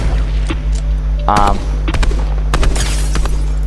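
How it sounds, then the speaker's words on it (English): Rapid gunfire in the Fortnite video game, Chapter 2 Season 3, shot from a high vantage; a burst of quick repeated shots followed by scattered single cracks over steady background game noise, with some talk. "what I'm shooting at now, you know, he probably has no clue where I'm shooting from"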